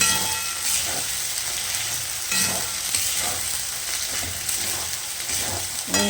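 Spice paste for a spicy potato curry (aloo dum) sizzles in a pan under a continuous hiss, with repeated scraping stirs spaced through it; close, steady and fairly loud, with no voices.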